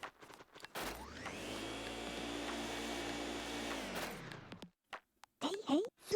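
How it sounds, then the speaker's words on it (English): Luigi's Poltergust 3000 vacuum from the video game Luigi's Mansion sucks steadily for about three seconds, a loud sustained whooshing roar that starts abruptly and cuts off, followed by brief game sound effects. "Use the R button to vacuum and the C stick to change your direction."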